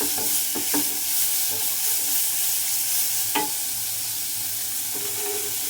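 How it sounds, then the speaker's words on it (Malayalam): Carrots and beans stir and fry in ghee in a pan, with a continuous soft sizzle under a few sharp scraping knocks of a spoon against the pan. "ആ നെയ്ക്കകത്തിട്ടൊന്ന് ഇളക്കി കഴിഞ്ഞതിന് ശേഷം നമ്മുടെ ക്യാരറ്റും ബീൻസും ഒക്കെ കൂടി ഇട്ട് കൊടുക്കാം"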